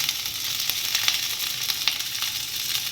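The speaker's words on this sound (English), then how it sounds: "So after the oil is nice and hot, I am adding the onions" Onions and capsicum hit hot oil in a pan while cooking baby corn Manchurian, giving a steady, close, bright sizzle with small crackles and pops, no voice over it.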